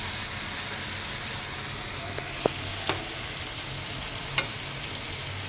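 Chickpeas fry in a generous amount of oil, giving a steady, close sizzling hiss that runs throughout, broken by a few faint clicks from stirring.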